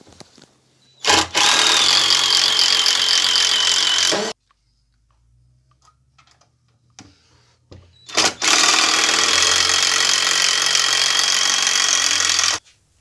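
Two long bursts from a power driver sinking screws into a wooden shelf for a miter saw station, each loud, steady whirring run lasting about three to four seconds with a quiet pause between, no talking.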